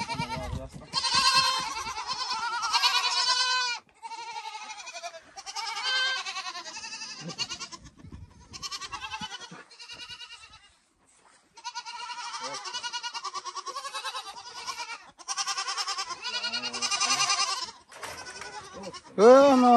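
Goats bleat near a village in Zhyngyldy, Uzbekistan, giving repeated nasal cries that come in clusters separated by short pauses, while people talk at times between and over the calls.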